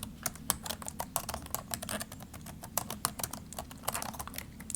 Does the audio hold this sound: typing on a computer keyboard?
yes